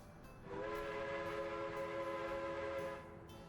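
A train in the video game Workers and Resources sounds a sustained horn-like tone for about two and a half seconds over a steady rumble, loud and alone.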